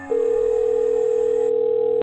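A steady, unbroken telephone dial tone hums loud and close for about two seconds and then cuts off abruptly, with no voices.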